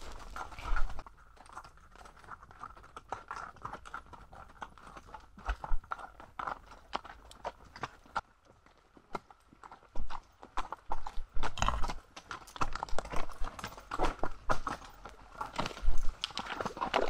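Horse hooves clip-clop steadily along a wilderness trail in Gila Wilderness, New Mexico, the footfalls loud and close with uneven rhythm, alone with no talking.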